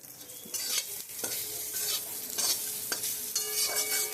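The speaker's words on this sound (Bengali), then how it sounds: "ওর মধ্যে আমি একটু নুন হলুদ আর লঙ্কার গুঁড়ি দিয়ে দিলাম তারপরে মশলাটা একটু ভেজে মিক্সিতে পেস্ট করে নেবো" Spices with salt, turmeric and chili powder fry in a pan for a catla fish curry, a spatula scraping and stirring in repeated strokes over a soft, steady sizzle.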